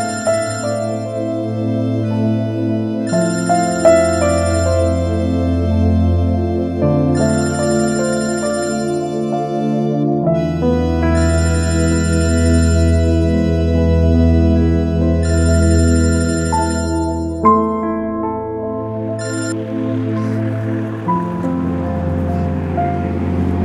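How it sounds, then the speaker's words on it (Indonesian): Melodic phone ringtone playing loud and steady, a looping chime tune that runs continuously for over twenty seconds before ending with a burst of noise. "Gue ada telepon, lo angkat dong."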